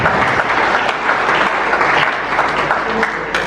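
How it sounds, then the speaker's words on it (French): Loud, dense audience applause at a merit and solidarity awards ceremony as a woman from the organizing team is invited forward, continuous clapping filling the hall. "avec tous vos applaudissements."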